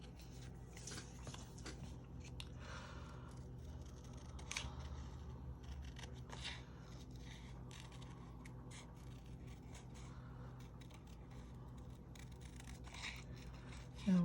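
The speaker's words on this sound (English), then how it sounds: "Let's go ahead and fussy cut her out." Scissors make quiet, scattered snips while fussy cutting a stamped paper card image, with soft crinkles of paper between the cuts and faint talk in places.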